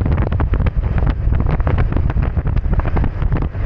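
Strong wind buffets the microphone on the coast of Southern Leyte, with loud, continuous low rumbling gusts that swell and dip steadily and no voices.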